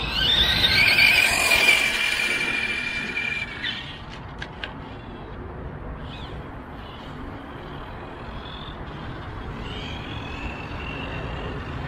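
A Hobao 10SC RC short-course car on 3S power with a 3800 kV 3665 motor gives a loud high electric whine that rises and then fades, leaving a faint distant hum and background hiss.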